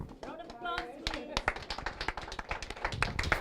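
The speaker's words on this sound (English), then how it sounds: "Round of applause, please." Clapping from a small audience at the official opening of a counselling centre, scattered sharp claps gathering into brisk applause, with a voice speaking briefly at the start.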